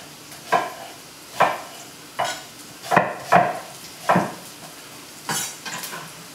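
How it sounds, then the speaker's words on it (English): Rough-chopped onions are worked in a hot pan as they sweat, heard as about eight evenly spaced stirring scrapes over a soft, continuous sizzle. "Rough chop those onions off. Sweat these off real easy."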